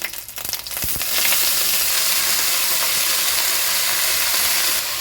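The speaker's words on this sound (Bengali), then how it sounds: "এবার আমি এর মধ্যে দিয়ে দেবো কেটে রাখা শাক" Chopped pea greens dropped into hot spiced oil with ginger paste in a pan, bursting into a loud, steady sizzle after a few brief clatters, continuing strongly throughout without talk.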